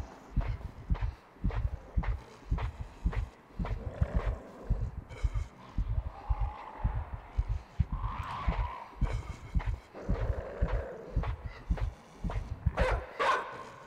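A dog in the game Inside barks in repeated loud bursts that keep a fast, urgent rhythm throughout, with faint background sounds between the barks.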